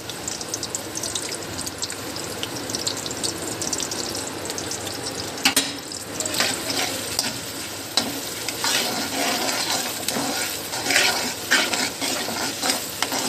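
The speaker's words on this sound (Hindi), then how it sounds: "सबसे पहले हमें प्याज को फ्राई करना है।" Chopped onions for chicken korma fry in hot oil in a kadai, a steady close crackling sizzle broken by sharp stirring clinks and scrapes.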